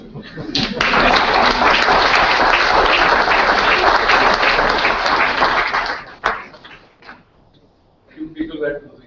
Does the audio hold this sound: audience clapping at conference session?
yes